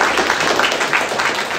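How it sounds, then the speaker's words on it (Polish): Applause from an audience at a lecture and debate event honoring a high school class, a close, brisk burst of many hands clapping that holds steady and then starts to thin. "także wielkie brawa"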